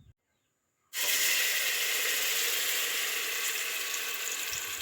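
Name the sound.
ground spice paste frying in oil for pulao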